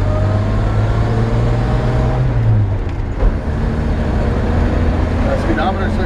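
1950 Chevrolet 3100 pickup with a 216 engine and three-speed column shift, a steady low engine rumble from inside the cab while driving, with a brief bump and people talking over it.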